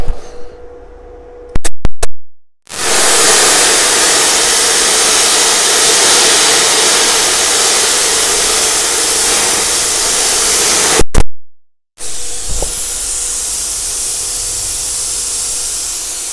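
A Parkside PPS 40 B2 plasma cutter slices a 5 mm aluminium sheet at 30 A with 4 bar of air, giving a loud, steady roaring hiss for about eight seconds. Brief cut-offs and quieter hissing air come before and after it.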